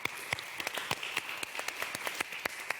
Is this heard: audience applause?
yes